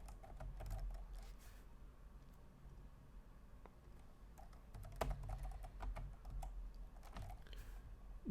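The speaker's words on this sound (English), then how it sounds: "So let's type those in." Typing on a computer keyboard goes on steadily throughout, a soft, close run of quick key taps with occasional louder strokes over a faint room hum, with no talking.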